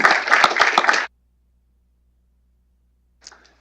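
A small burst of audience clapping at an institutional gathering lasts about a second and stops abruptly. Silence follows, then a faint brief sound near the end.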